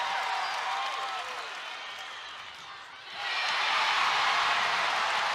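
Crowd at a 2023 NCAA women's college volleyball match between Louisville and Stanford, a steady roar of cheering that dips briefly and then surges louder for the rest of the moment.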